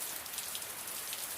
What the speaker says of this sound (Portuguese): Tá chovendo muito